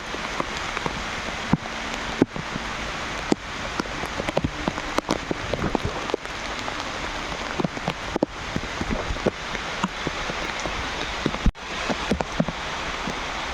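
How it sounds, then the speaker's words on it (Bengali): Heavy rain pours down steadily at a village fish pond, drumming hard on surfaces nearby, with sharper drips and knocks scattered throughout; no talking. "খুব জোরে বৃষ্টি হচ্ছে"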